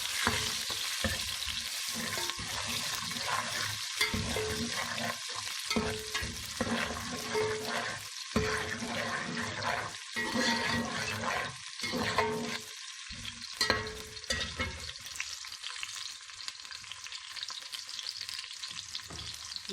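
Onion frying in hot oil for a mixed lentil dal, a steady dense sizzle with bursts of stirring, continuous and close with no talk.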